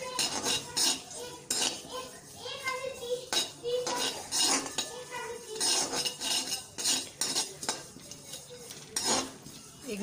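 Cumin and mustard seeds roast in a pan, stirred with repeated metallic scrapes and clinks of a utensil against the cookware in an irregular rhythm, with a faint sizzle underneath.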